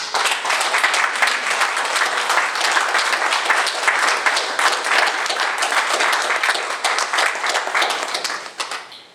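Loud, dense audience applause at a Refugee Day event, a sustained wall of many hands clapping close by, holding steady for several seconds before fading out at the end.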